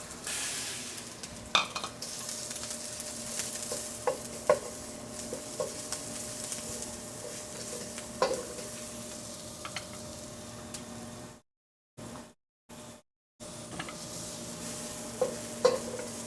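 Ingredients for noodles being tossed in a hot pan, a quiet steady sizzle with scattered clinks and scrapes of stirring, briefly cut out near the end, with faint outdoor noise in the background.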